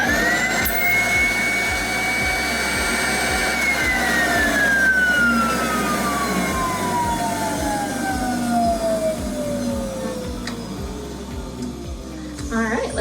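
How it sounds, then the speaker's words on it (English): A dental vacuum former pulls a heated whitening tray sheet down over a model: a steady loud motor whine with a pitch that slowly sweeps downward, over a low rhythmic pulsing hum. "I'm gonna go ahead and just lower that over my model and turn on vacuum."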